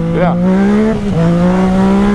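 Motorcycle engine, a Honda CB1000 or Yamaha MT-09, revving and pulling hard under acceleration, a loud steady drone with the pitch dipping briefly midway before climbing again, close by.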